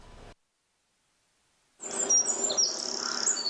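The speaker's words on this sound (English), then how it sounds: "the sounds of birds chirping outweigh the amount of traffic" Birds chirp on a quiet residential street in Dublin, Georgia, high bright calls rising after a short burst of sound and a silent gap, fairly close and steady against faint background.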